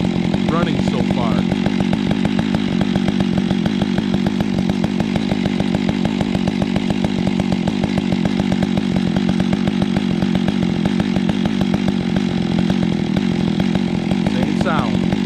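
A Stihl-class chainsaw, 661, 500i or 460, idles and runs at a steady, unchanging drone with a fast rhythmic chatter, close and loud throughout, with a voice briefly over it.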